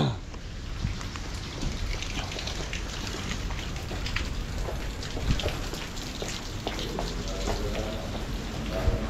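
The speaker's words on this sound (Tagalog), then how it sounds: "Lakas ng ulan." Heavy rain falls steadily at a construction site under a dark sky, a dense, constant hiss of drops with scattered sharper patters throughout, loud and continuous with no talking.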